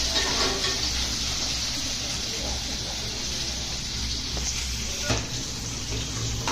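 Onion and curry leaves fry in hot oil in a pot, giving a soft, steady sizzling hiss throughout while someone talks over it.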